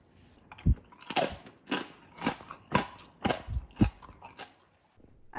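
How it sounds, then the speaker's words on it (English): Crispy air-fried pork belly, cooked in a Philips Airfryer XXL Combi 7000, is bitten and chewed close up. About eight loud, sharp crunches come in an uneven rhythm, alone and without talk. "The meat is extremely juicy, and I'll let you listen to the crunch."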